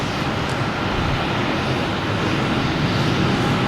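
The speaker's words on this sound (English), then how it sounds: "The JetBlue here from JFK," A JetBlue Airbus A220 jet out of JFK, heard from an airport spotting spot at Boston Logan as a continuous, loud broadband engine roar with no speech.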